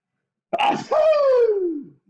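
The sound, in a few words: sneeze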